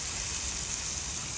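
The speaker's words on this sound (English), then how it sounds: "And yeah, we're getting a good sizzle." Cheeseburgers sizzle in a pan over a gas canister stove on medium heat, a steady, close hiss of frying fat with no voices.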